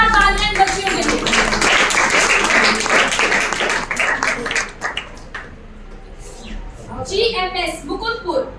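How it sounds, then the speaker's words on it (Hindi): An audience at an inter-district anti-drug poster-making competition claps vigorously for schoolgirls called to the stage. The dense applause fills the first half and then fades as a voice talks over a quieter hall. "एक बार जोरदार तालियां बच्चियों के लिए"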